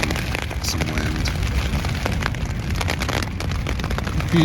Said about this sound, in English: So far it's just been a little bit of rain and some wind.